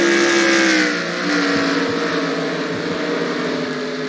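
Stock cars race at Nashville Fairgrounds in NASCAR Racing 2003, engines droning loudly with a rising and falling whine as the pack passes, and no voices over them.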